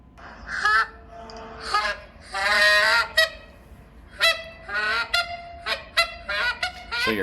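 A goose call blown in short, sharp honks and quick clucks at a goose calling contest, loud and close, in an uneven rhythm with brief pauses between bursts.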